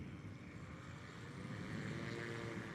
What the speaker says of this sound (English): So that was an 83-foot takeoff.